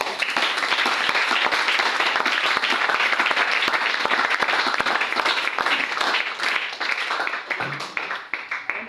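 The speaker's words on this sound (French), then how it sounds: "On va acclamer pour la gloire de Dieu" A church congregation applauds in sustained, dense clapping that stays loud and even throughout, with faint crowd murmur underneath.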